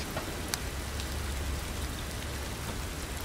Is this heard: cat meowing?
no